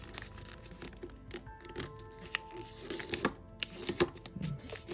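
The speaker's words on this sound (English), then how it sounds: "Now, fold in half this way." Paper being folded for an origami fighter jet, with close, quiet crinkles, creases and sharp taps on a hard surface in an irregular series.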